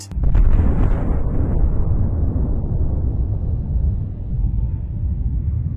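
A massive atomic bomb explosion bursts out, then rolls into a long, heavy, loud rumble that keeps thundering without letting up.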